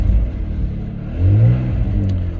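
An MG ZT 190 with a slight exhaust blow revs from idle, its engine rumbling and then rising in a smooth, loud surge before easing back, close by with no talking.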